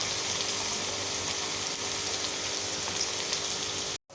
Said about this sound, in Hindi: हम इसको थोड़ा सा और जो है वो फ्राई होने देते हैं।